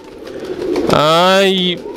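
A single soft, throaty pigeon coo rises out of quiet background hiss, close by and lasting under a second.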